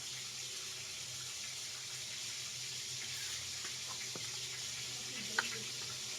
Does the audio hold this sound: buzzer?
no